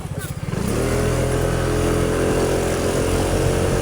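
A motorcycle rides along a road after leaving a subdivision, its engine a loud, steady drone that builds in the first half-second and then holds an even, close rumble throughout.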